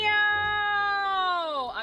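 A cat meows once in Fire Emblem Echoes: Shadows of Valentia, a loud, clear, drawn-out cry that slides down in pitch at the end.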